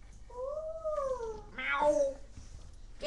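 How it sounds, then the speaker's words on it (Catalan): Cartoon cats yowling and squabbling, with a drawn-out two-tone wail followed by a harsher, noisier cry, loud and close over a faint background. "Qui s'està barallant? Els nostres gats?"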